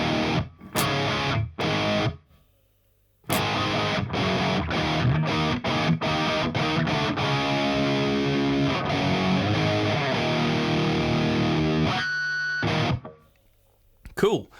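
Electric guitar played through a Klon overdrive pedal into a Two Notes Cab M+ cabinet simulator, heard as crunchy distorted chords and strummed notes with abrupt stops and gated silences between phrases.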